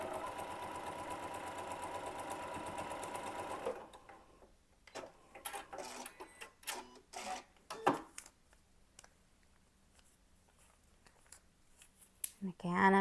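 A sewing machine stitches a paper-pieced quilt block with a steady, fast mechanical whir for about four seconds. Quieter handling clicks and rustles follow, with the machine starting again briefly at the end.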